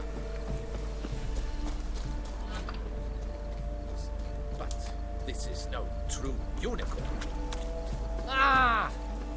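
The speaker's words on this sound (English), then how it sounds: "Tiene puesto el cuerno. Es un caballo." Horse hooves clip-clop at a steady trot in The Witcher 3 video game, a continuous rhythmic patter over a low ambient drone, with a brief whinny near the end and no speech.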